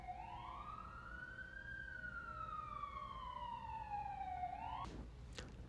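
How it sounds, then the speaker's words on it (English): A wailing siren rises and falls slowly in the distance, followed by a couple of brief noisy bumps near the end. "it's just sirens all the time"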